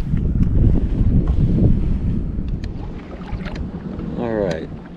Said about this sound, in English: Alright, wind is starting to pick up a bit